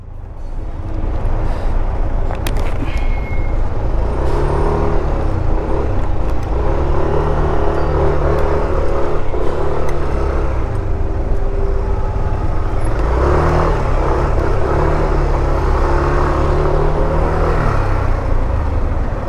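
Steady road traffic surrounds a car driving through early-morning congestion, a loud continuous engine rumble with passing vehicles and occasional revving, no talking.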